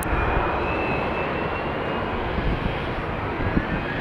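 A business jet taxis at Tampa International Airport on a chilly day, its engine giving a steady, close, continuous roar with a faint high whine throughout, and no voices.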